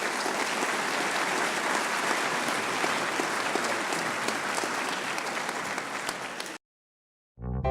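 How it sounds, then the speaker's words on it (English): Loud, steady applause from an audience at a scholarship reception, honoring a group of recipients; dense clapping continues evenly for about six seconds, then cuts off abruptly. "If we could have a big round of applause for this group"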